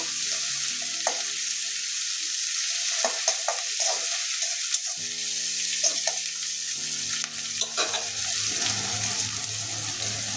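Ginger garlic paste fries with onions in a pan, giving a steady soft sizzle broken by scattered scraping stirs and clinks of a spoon, close by and without voices.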